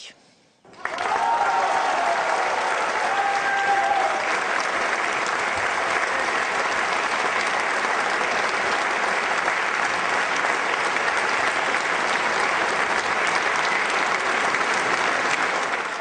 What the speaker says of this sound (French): non seulement les militants applaudissent pendant le discours, mais à la fin il a même droit à une standing ovation